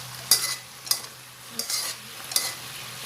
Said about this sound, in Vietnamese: các bạn trộn nó lên cho nó thấm hết gia vị vô đây nha các bạn